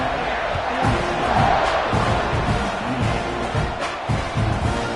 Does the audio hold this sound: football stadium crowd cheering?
yes